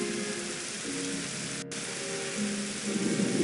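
Steady rain falls in the video game And Then There Were None, a continuous hiss of drizzle with a faint musical tone underneath that swells slightly toward the end.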